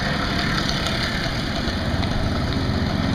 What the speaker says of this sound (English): Well, look at that little motorcycle there.